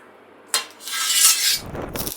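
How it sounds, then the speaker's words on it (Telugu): A spatula scraping a dosa off a pan and onto a plate: a sharp metallic clink, then a scraping swish, and a lower clatter of the plate at the end, close and moderately loud. "ఇప్పుడు మనం దోశని ప్లేట్లోకి తీసుకుందాము."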